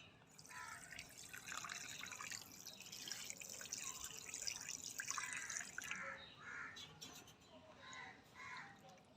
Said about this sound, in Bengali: এবার এই জলটাও আমি এই মাছের মধ্যে দিয়ে দেবো।